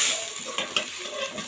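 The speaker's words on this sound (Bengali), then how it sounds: "এই তো মাছ ভেজে নিচ্ছি আমি" Pangas fish fries in a pan, a close crackling sizzle with a couple of sharp spatters and stirring touches during the brief moment, with no one talking.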